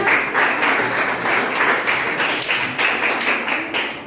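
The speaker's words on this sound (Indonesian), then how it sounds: "Oke, tepuk tangan untuk semuanya." Classroom applause: a continuous dense patter of many hands clapping at once, fairly loud and close, holding steady before easing slightly at the end, with no clear speech.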